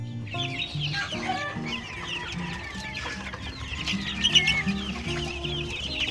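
Several sick farm hens cluck continuously at close range, with bird chatter around them and a brief louder burst of clucking near the end.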